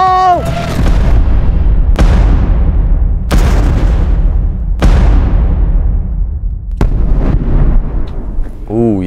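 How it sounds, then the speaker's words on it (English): Repeated heavy explosive detonations during Marine EOD demolition training outdoors, several loud booming blasts a few seconds apart with rumbling decay, voices shouting in between. "That last one was like a proper movie explosion, the mushroom cloud."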